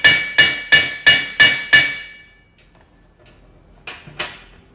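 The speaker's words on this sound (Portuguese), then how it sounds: "eu vou dar uma batida aqui assim para deixar o cabeçote bem essa solda bem compactada" Six evenly spaced, loud, ringing hammer blows strike a weld on a Ferrari V8 cylinder head, each metallic clang decaying quickly. After a pause come two lighter taps.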